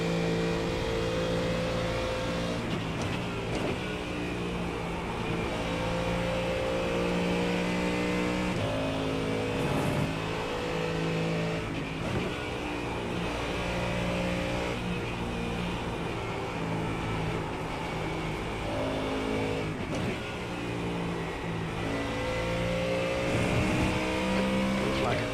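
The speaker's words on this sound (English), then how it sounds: "There's a faster car approaching." Race car engines in iRacing GT racing, a steady loud drone with shifting pitch as a faster car closes in and the engine note climbs and falls through the gears, with occasional speech over it.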